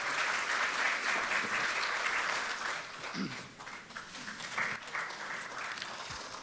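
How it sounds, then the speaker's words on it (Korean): A large party assembly hall fills with sustained applause from a crowd welcoming the floor leader to the stage, a dense steady wash of many hands clapping together for several seconds, with no voices over it. "힘찬 박수로 맞이해 주시면 감사하겠습니다"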